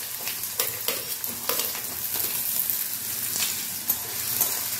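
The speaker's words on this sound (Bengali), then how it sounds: "এখন তেলের মধ্যে প্রথমে আমি দিয়ে দিচ্ছি টুকরো করা আলুগুলো।" Cut potato pieces fry in hot mustard oil with a continuous close sizzle, crackles and spatters rising and falling as the pieces are stirred.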